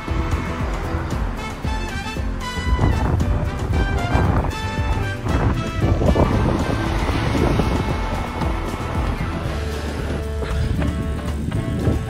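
Strong gusting wind buffets the microphone outdoors during a run, a loud, rough roar that swells and eases, with faint voices underneath.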